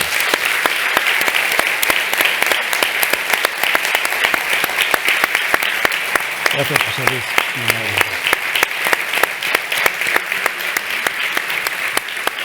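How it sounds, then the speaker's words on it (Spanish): An audience applauds after a talk at a Spanish-language event on caregiving, with sustained loud clapping throughout and a brief spoken thank-you heard over it midway. "Fíjate qué aplauso"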